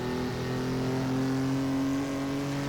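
An old sports car engine, the kind raced early by Stirling Moss, revs hard and steady close by, its harmonic drone climbing slightly in pitch and holding for the full stretch with no voices.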